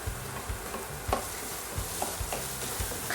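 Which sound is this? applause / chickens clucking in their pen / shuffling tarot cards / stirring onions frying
stirring onions frying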